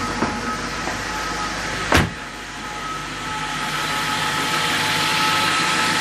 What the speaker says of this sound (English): Motor sounds nice and tight.